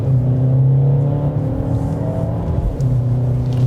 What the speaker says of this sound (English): A little bit of an engine growl.